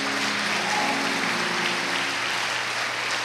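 Continuous applause from a church congregation, a dense wash of clapping that holds steady throughout.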